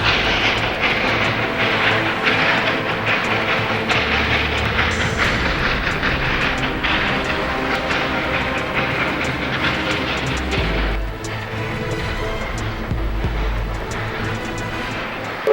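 A train climbing the Devil's Nose, a steep zigzag rail route up a rock hill in the Andes: a continuous rumble of rolling stock with rhythmic wheel clatter and a low engine drone, steady and fairly close throughout.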